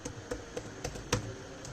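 Fingers tap code onto a computer keyboard, with several separate keystrokes at an irregular pace, close but quiet.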